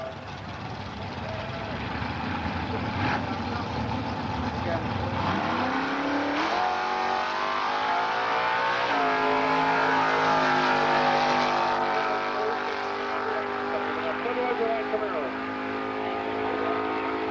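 A Budweiser Light Chevrolet Camaro drag car launches and pulls hard down the strip, its engine note climbing through rising harmonics, loud and sustained, with an announcer talking over it.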